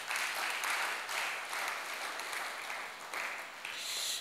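A church congregation applauds together, a dense, sustained clapping that swells and dips slightly over four seconds, filling the room evenly with no speech standing out.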